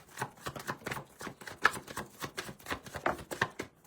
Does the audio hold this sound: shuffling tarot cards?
yes